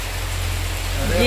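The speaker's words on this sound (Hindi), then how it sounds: "जबरदस्त बारिश हो रहा है" A heavy downpour makes a steady, loud wash of broadband noise that stays dense and unbroken throughout, with a low rumble underneath and no clear talk.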